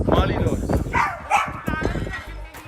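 A pit bull guard dog gives a few sharp, close barks and yips between people talking loudly nearby.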